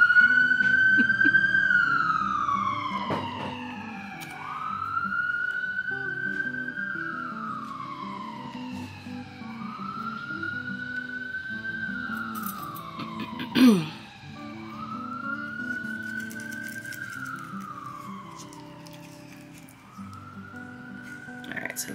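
An ambulance siren near a hospital wails in long, repeated rising-and-falling sweeps, fairly close, over steady traffic rumble, with a sharp thump partway through.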